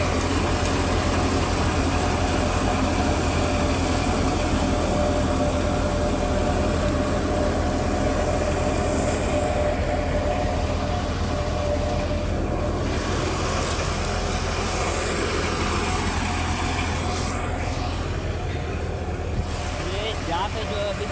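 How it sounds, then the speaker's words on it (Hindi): A threshing machine running during a mustard harvest on a farm: a loud, continuous mechanical drone and rumble with steady hum, close by and unbroken, with people talking faintly under it. "यहाँ पे जो अभी थ्रेशर निकली"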